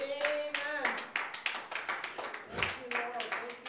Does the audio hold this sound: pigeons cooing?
no